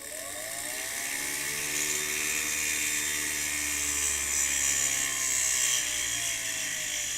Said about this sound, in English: I'm going to use the side of the setting burr.